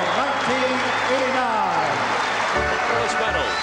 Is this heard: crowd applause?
yes